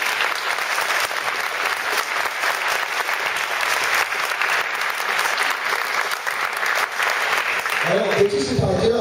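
Steady applause from a gathered audience at a cheque-presentation event, dense and continuous for several seconds before a voice begins talking as the clapping fades at the end.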